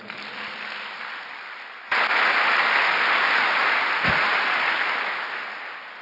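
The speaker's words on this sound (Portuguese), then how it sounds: "Vamos dar um aplauso a ele." A church congregation at a Sunday service applauds, clapping steadily, then the clapping swells suddenly louder and continues before slowly fading.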